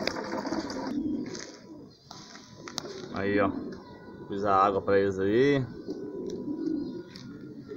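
Homing pigeons coo softly nearby as someone speaks in Portuguese over them, with a few light flutters and clicks between the calls.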